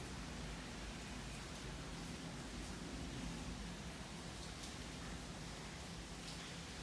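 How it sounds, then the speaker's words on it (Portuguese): Heavy rain falls in São Paulo as a faint, even, continuous hiss that holds steady throughout, with no voices. "Vocês estão ouvindo o barulho da chuva?"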